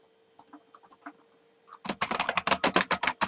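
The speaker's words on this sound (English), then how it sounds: "type some text" Close, quick keystrokes on a computer keyboard, a few scattered clicks at first, then a dense, rapid run of typing.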